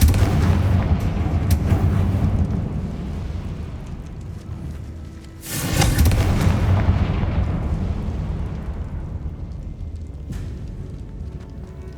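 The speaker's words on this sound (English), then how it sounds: "Confringo." The Confringo fire spell in the video game Hogwarts Legacy sets off heavy booming explosions over a dense rumbling roar, with a sharp blast midway and the din slowly fading toward the end, and no voices heard.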